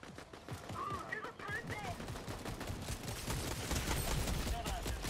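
Fortnite sniper rifle fire and other gunshots crack repeatedly through dense game noise, a busy mix of shots, effects and background clatter with no clear pauses.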